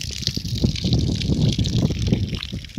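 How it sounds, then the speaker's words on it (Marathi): Water from a borewell pump on a farm gushes and splashes in a continuous, turbulent flow close by, with a steady churning rush and small irregular surges. "हा आहे पंप. आमच्याकडे बोर दिली आहे. ही आहे आमची बोर आणि इथून येत आहे पाणी"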